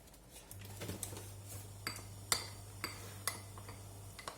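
A spoon stirs powder into cold soy milk, giving light, irregular clinks and taps against the container over a faint, steady background hum, with no talk.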